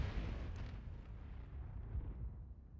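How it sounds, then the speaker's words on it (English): A rocket-jump explosion in Team Fortress 2 on the ctf_haunt map: a single broad blast that swells at once and slowly fades over a few seconds, with no voices. "So drop down and then rocket jump."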